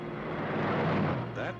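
Engine of a 1961 Ford Thunderbird, a loud broad roar that swells and holds briefly before easing off at the end, heard up close.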